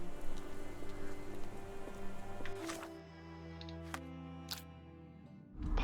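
Steady rain falls in the video game Sherlock Holmes: The Awakened, a continuous patter over a low ambient hum and faint tonal music, with a few sharp splashy ticks near the end and no talking.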